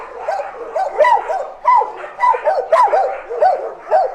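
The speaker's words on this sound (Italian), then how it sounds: "c'è rumore, ci sono cagnolini" Several dogs bark, yip and whimper at a kennel, loud and close, with irregular overlapping barks in quick bursts.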